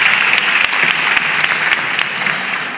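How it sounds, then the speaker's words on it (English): Dense applause from an audience, steady clapping filling the whole moment with no pause. "you can give her a round of applause as she's doing so"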